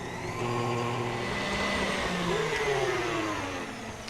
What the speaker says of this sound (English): let's get that started whisking together.